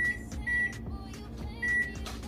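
A kitchen timer beeps in repeated short tones at a steady rhythm, sounding clearly over a quiet low hum in a home kitchen with the oven on.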